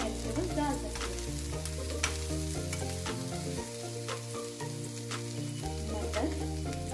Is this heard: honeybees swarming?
no